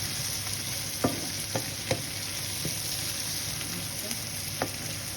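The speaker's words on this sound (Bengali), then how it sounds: "হালকা ভাজি করে নিব।" Garlic frying lightly in oil in a pan for a boal fish curry, a soft steady sizzle with a few faint stirring clicks, close by and without talk.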